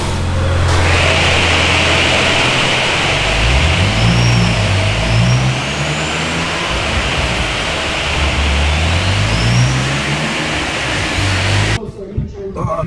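Supercharged BMW engine revving hard on a dyno during a power run, a loud, continuous close roar with rising and falling pitch sweeps, cutting off abruptly near the end.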